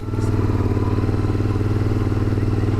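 A CFMoto Ibex 450 motorcycle engine runs steadily while the bike moves, a loud, constant low rumble with a fast regular pulse and wind-like hiss, with no clear revving.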